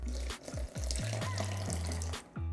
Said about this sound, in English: Now add 4 additional cups of water.